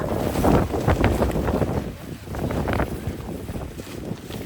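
Strong wind blows across an outdoor construction site in heavy weather, a loud continuous roar with gusty buffeting against the microphone and no clear speech.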